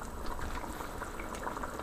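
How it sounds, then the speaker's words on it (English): A pot of beef and cabbage gravy made with stock boils steadily, giving a dense, continuous bubbling and seething close by with no speech. "Now it's coming to a boil, so let it dry down a little, some of this gravy."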